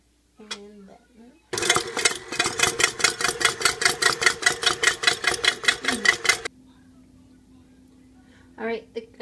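KitchenAid stand mixer with whisk attachment beating cream and white sugar, a loud rapid pulsing whir running steadily for several seconds before cutting off, leaving a low hum, with brief talk before and after.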